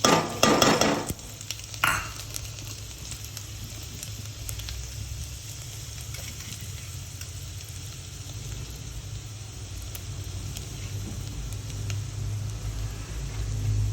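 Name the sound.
garlic added to hot oil sizzling while tempering dal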